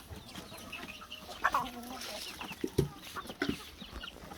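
Sultan chickens cluck softly on a farm, a few short clucks and calls scattered over quiet background noise.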